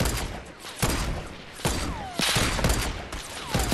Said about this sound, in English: We're in a sniper battle.